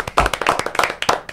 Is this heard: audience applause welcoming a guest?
yes